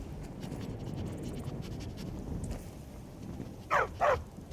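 A puppy in Skyrim gives two quick, bright barks close by near the end, after a stretch of quiet scratching and ambient rustle.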